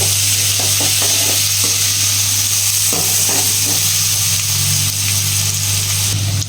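Onion sizzling in hot oil tempered with asafoetida for stuffed okra in yogurt, a loud steady frying hiss with intermittent stirring scrapes and a low hum beneath, no talking.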